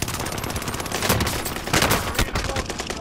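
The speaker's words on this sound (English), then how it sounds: "Taking fire." Heavy gunfire in the shooter game Fortune's Keep, with overlapping rapid bursts and single loud shots forming a close, continuous barrage of crackling reports.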